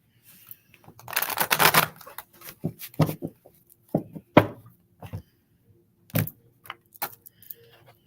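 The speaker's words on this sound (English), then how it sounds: "let me give it one more shuffle here." A deck of cards is shuffled up close, giving quick riffling bursts and several sharp taps and snaps in an irregular rhythm.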